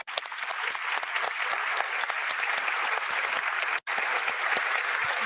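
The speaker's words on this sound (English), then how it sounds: "a round of applause for our panelists" Loud, dense audience applause for panelists at the close of a political summit session in London, sustained throughout with one brief break.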